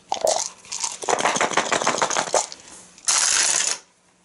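Five blessed dice from an Arkham Horror board game rattle in a hand and tumble onto the table, a close, dense clatter of plastic that comes in two bursts with a short pause between them.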